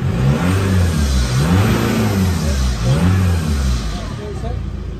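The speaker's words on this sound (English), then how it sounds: "Now, just give it a few revs" SEAT Leon FR engine, just after a turbo cleaning, is blipped through a few rising and falling revs from a tick-over idle, loud and close, with talk partly over it.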